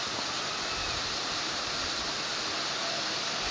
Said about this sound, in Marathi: सगळीकडे पाणी चालू आहे